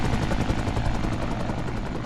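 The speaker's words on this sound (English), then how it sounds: "Oh, hey, helicopter." A helicopter passes overhead in the video game Into the Radius 2, its rotor beating in a dense, steady, rapid thump that stays loud and continuous with no talking.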